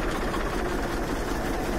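A tractor fitted with a homemade sprayer rig for vegetable fields, its engine running as a steady, loud, continuous drone with no gaps or talk.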